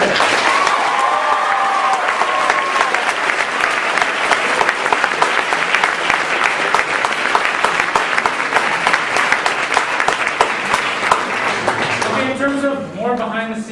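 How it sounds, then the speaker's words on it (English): Sustained applause from a large audience at a college cultural night show, dense steady clapping that fills the whole stretch before thinning at the end as voices and music come through. "let's one more round of applause for him"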